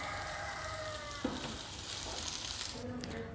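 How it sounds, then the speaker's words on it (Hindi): Gola kebabs fry on a tawa with a soft, steady sizzle, fairly quiet and close, with a faint clink partway through. "अब ये तमाम तरफ से अच्छी तरह फ्राई हो गए हैं।"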